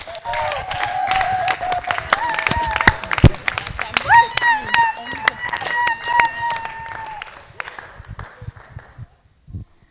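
A church congregation applauds loudly at a New Year's wishes ceremony for a reverend, with dense clapping under voices and sustained tones that fade near the end.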